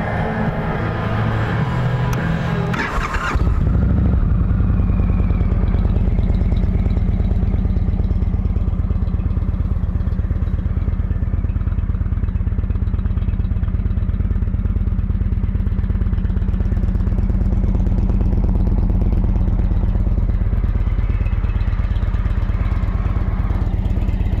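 An Indian Chieftain touring motorcycle with a 111 engine and six-speed gearbox cranks and fires up with a loud catch, then settles into a steady, rumbling idle close by.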